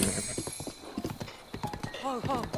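Horse hooves clip-clop along with a short whinny near the end in the video game The Legend of Zelda: Breath of the Wild, mixed with someone talking over them.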